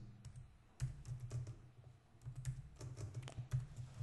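Typing on a computer keyboard while CSS code is entered, a close, quiet run of irregular key clicks with a short pause partway through and no talk.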